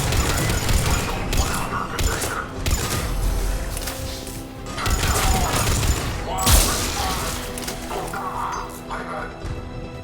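Bursts of gunfire at a Cerberus checkpoint in Mass Effect 3, rapid crackling volleys and booms in waves with mechanical clanks, loud and close, mixed under speaking voices.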